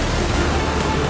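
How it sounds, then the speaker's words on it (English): Steady broadband roar of ocean surf crashing over coastal rocks, loud and continuous with no distinct breaks, heard alone without voices. "The power of the ocean."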